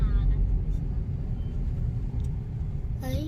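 Steady low rumble of heavy car traffic crawling up the Lonavala ghat road near a tunnel, a continuous engine drone heard from inside a vehicle, with a faint tone near the end.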